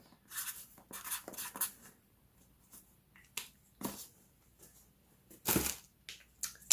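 A pen scratches across paper in short, quick strokes with pauses between them, close and quiet, while a winner's name is written down.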